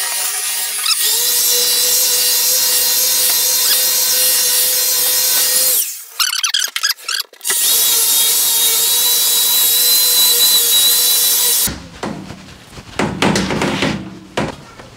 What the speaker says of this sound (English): So now I'm gonna run it now with the polishing compound.